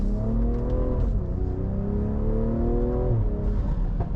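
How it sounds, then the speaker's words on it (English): A turbocharged BMW M340i sedan accelerates hard from inside the cabin, its engine note climbing steadily in pitch through the gears with a brief dip at a shift, loud and continuous. "Oh, that turbo."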